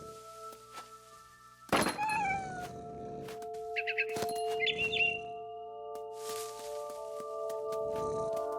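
A cat in the video game What Remains of Edith Finch gives one loud meow with a thud, then several quieter chirping meows over a soft, sustained ambient music drone.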